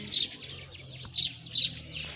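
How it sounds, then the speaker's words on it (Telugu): Weaver birds chirp near a temple pond, a quick series of high bright tweets repeating in short bursts, fairly close and clear over faint background noise. "గిజిగాడు పక్షులు."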